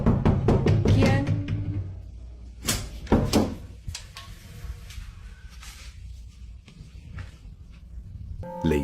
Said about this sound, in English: she hears what sounds like knocking at the door and decides to record it